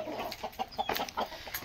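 An Asil hen clucks in short, uneven bursts, fairly close but soft, with no voices.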